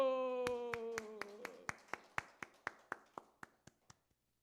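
A church congregation at a Wednesday service claps in unison, a run of about fourteen sharp, evenly spaced claps, while a sustained sung or spoken tone fades out beneath the opening beats.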